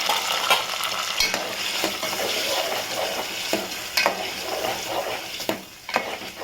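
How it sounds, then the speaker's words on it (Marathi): Steady sizzling as ground taro-leaf paste is sautéed in a pan, with repeated stirring scrapes and clinks, close and fairly loud, no voices. "चांगलं परतून घेते"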